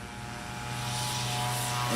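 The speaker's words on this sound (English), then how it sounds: "Dave Curley's spooling it up" RV light aircraft propeller engine spooling up for a short-takeoff run at Music City Executive Airport, a steady, rising drone building in loudness over two seconds, fairly close and alone.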